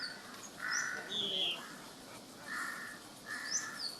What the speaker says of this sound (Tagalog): Daming mga uwak.